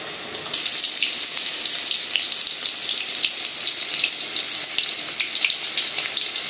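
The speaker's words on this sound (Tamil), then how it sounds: "நல்லா அப்படியே பொரிஞ்சு புசு புசுன்னு வரும்" Masala-coated chicken 65 pieces deep frying in hot oil, a steady close bubbling hiss with dense crackles running the whole time, no voices.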